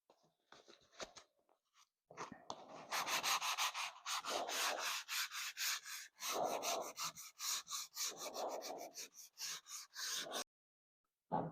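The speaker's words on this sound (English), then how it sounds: "after it's been abraded with the 120 grit" Hand sanding of teak trim on a 26-foot Alerion sailboat with 120 grit paper: loud, close, rhythmic back-and-forth rasping strokes in quick repeated bursts, with brief pauses between runs.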